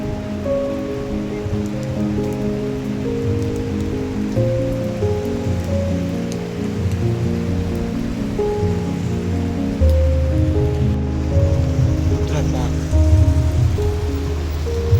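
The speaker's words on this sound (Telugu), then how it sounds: "వర్షం చాలా వర్షం పడుతున్నది" Heavy rain pours over the Rudrapada tirtha bathing site at the Ganagapur pilgrimage place, a steady dense hiss throughout with a low droning tone beneath, growing louder toward the end.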